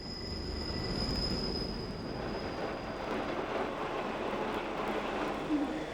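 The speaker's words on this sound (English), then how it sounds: "some unusual old train engines are still in operation" Rumbling railway noise from an old electric locomotive of the type nicknamed baby crocodile, near Filisur: a broad, steady roar and faint metallic squeal, heard from a distance at low level, with no talking.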